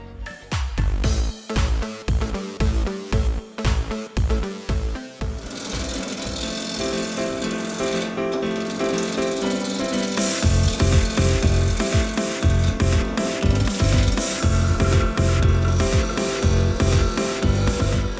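A woodturner works a piece of wood in a workshop: loud, evenly spaced mechanical thumps for several seconds, then a steady whirring, grinding machine noise with rapid clattering that continues to the end, with no talk.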